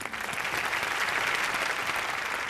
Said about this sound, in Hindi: जोरदार तालियां एवरीबॉडी।